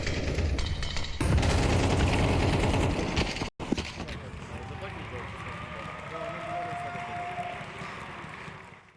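Rapid automatic gunfire rattles through a Counter-Strike match between Team Liquid and Astralis at the StarLadder Budapest Major 2025, with bullets tearing through a smoke grenade. Dense shots fill the first few seconds, then quieter game ambience follows, and voices may be present.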